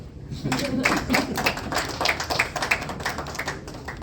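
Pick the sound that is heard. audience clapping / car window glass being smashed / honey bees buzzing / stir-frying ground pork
audience clapping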